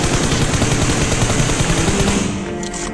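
Rapid, loud bursts of gunfire from a PUBG battle-royale match crackle in a dense, continuous volley before tailing off near the end.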